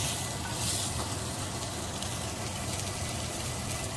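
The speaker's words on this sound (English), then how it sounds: "he's using the cast iron to sear the" Fish sears in a cast iron pan with a loud, continuous, close sizzle that holds steady throughout, with no talk over it.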